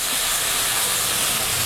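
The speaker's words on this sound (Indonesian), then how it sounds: "Kita tumis bumbunya sampai harum atau sampai matang." Spice paste sizzles as it is sautéed in oil for a homemade balado with pindang tongkol fish, a dense, continuous, loud hiss that stays constant throughout, with no talking.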